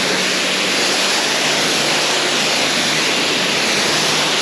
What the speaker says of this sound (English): Let's quickly rinse this stuff off